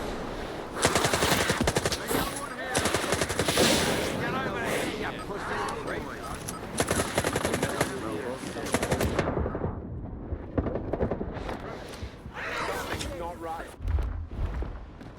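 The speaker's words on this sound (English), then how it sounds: "Why are you shooting at me," Sustained automatic gunfire in the video game S.T.A.L.K.E.R. 2, loud rapid bursts filling most of the span and fading toward the end, with voices shouting over the shooting.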